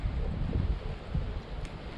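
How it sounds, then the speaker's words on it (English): Low, blustery autumn wind rumbles steadily against the microphone on a bank while crappie fishing, buffeting unevenly with no other clear sounds. "It's really windy today."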